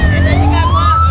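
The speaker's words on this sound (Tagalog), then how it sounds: "Ating nauna ang ating ambulansya, mga masipag ating mga sa rescue yan eh." An ambulance siren wails at the head of a religious procession, loud and close, its pitch sweeping smoothly upward over a low engine rumble.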